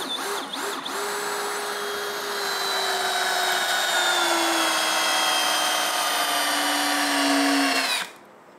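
A Ryobi ONE+ HP 18V brushless compact 3/8 in. right angle drill on a 1.5 Ah battery drives a 4.5-inch lag screw: a loud, steady motor whine that shifts pitch under load for about eight seconds, then cuts off abruptly. No one talks.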